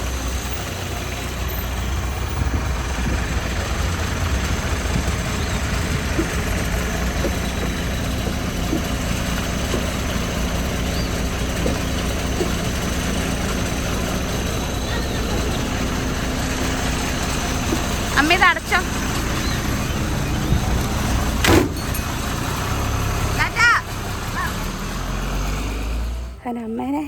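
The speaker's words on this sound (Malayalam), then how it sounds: "ബസ് വരുന്നുണ്ട്" A bus engine idling at a roadside stop, a loud continuous low rumble throughout with light rain, and a few short voices talking over it near the end.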